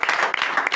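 A church congregation claps and applauds in acclamation, giving a short, dense burst of handclaps that sounds fairly near and lively.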